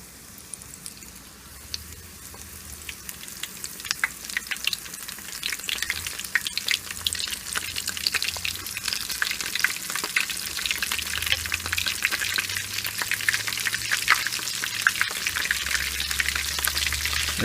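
Morel mushrooms fry in a hot pan with a dense, steady crackle and sizzle, punctuated by stirring pops and spits, close and continuous without voices.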